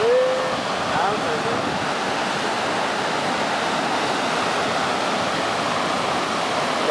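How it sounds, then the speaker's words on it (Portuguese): Ocean surf at Matadeiro beach in Armação, a steady broad wash of breaking waves with wind noise on the microphone, loud and continuous throughout, with a faint voice briefly near the start. "É a praia do Matadeiro aí, a praia da Armação, meu amigo Maurício aqui."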